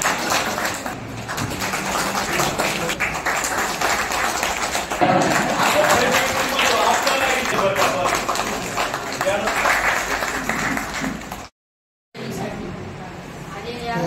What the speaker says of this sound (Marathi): त्यांचे आपण टाळ्याच्या गजरात स्वागत करूया